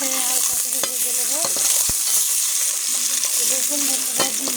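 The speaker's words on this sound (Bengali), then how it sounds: "ডিম ভালো করে নেড়েছে হালকা করে ভেজে নেব।" Salted eggs lightly frying in a pan, a loud, close, steady hiss and crackle of hot oil with intermittent sharp clicks and scrapes of a utensil, no talking.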